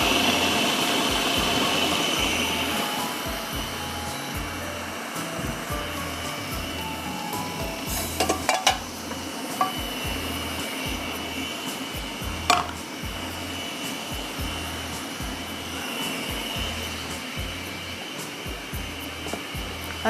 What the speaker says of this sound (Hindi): थोड़ा सा दाल का दाना है तो मैं और पीस लेती हूँ